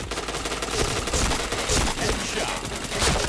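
Rapid video-game gunfire crackles in dense, overlapping bursts, loud and close, forming an almost continuous fusillade of shots over a few seconds.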